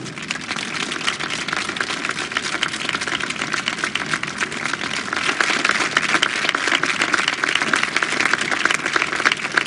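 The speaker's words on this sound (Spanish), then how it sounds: "Así que pido un aplauso muy fuerte para él." Loud, dense applause from a crowd fills the room at a town council gathering, a steady wall of clapping that swells slightly toward the end without any voices breaking through.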